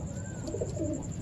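Pigeons cooing softly on a rooftop loft, a brief low burbling call at close range over faint background hum.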